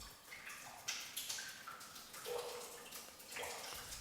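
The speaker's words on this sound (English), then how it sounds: "The only sound in the cave is that of the flowing of water." Water flows and drips inside a huge cave chamber linked by an underground river: a faint, distant trickle with scattered hollow plinks echoing in the quiet space.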